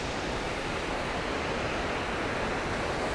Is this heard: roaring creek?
yes